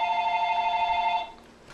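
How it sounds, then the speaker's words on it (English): A telephone rings loudly in a classroom, one steady electronic trilling burst lasting about a second before cutting off, close and alone. "The phone's just going to ring."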